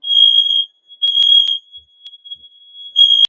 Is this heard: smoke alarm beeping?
yes